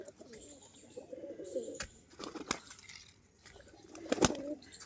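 Pigeons kept for sale, males and females, coo softly nearby in low repeated calls, broken by sharp clicks and a few wing flutters.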